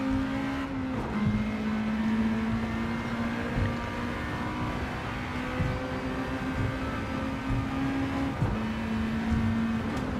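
Race cars in Gran Turismo 7 lap a clockwise circuit on the Tokyo Expressway, with one engine note droning steadily and shifting in pitch, moderately loud and without talk.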